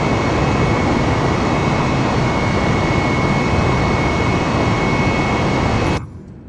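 Airliner jet engines roar at takeoff power in a flight simulator, a loud, steady, broadband rush that runs unbroken before cutting off abruptly near the end.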